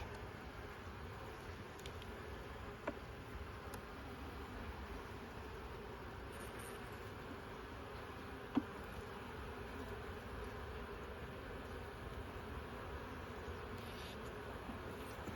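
Honeybees buzzing around an open Langstroth hive during an inspection, a soft continuous drone close by with a couple of faint clicks or knocks, no talking.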